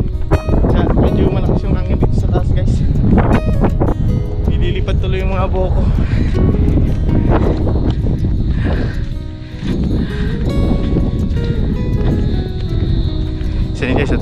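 Strong gusty wind on the top of Pagsa Hills, a hill near the sea, buffets the microphone in a loud, continuous roar, with people talking underneath.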